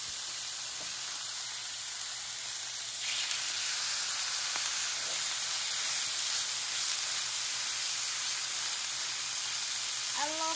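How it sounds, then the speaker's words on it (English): A bone-in beef steak sizzles steadily in a hot pan as it is turned over, a continuous close frying hiss with faint scrapes and small clicks and no talk. "So let's see if it's time to turn over the beef."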